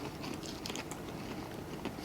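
Crunchy mountain popcorn shrimp is bitten and chewed close up, giving faint, irregular crisp crackles and snaps over a quiet background.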